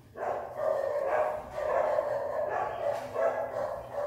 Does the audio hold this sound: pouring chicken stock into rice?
no